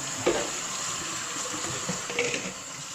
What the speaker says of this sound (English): I'm rinsing everything again